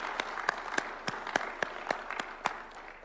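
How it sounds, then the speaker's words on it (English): Applause breaks out for a speaker at a State House event in Kenya with President Ruto, a steady patter of clapping from a smallish crowd with some claps standing out sharply, heard alone. "Let us give her a round of applause."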